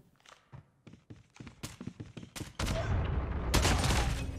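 Gunfire in the mobile shooter Call of Duty Mobile: a quick series of separate sharp shots that breaks into a loud, sustained rattling burst, played close without talk.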